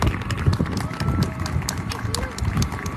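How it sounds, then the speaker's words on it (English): A crowd at an outdoor rally in Salem, Oregon claps in a dense, steady patter for the full stretch, with voices and cheering mixed in. "Let's give Salem DSA another round of applause,"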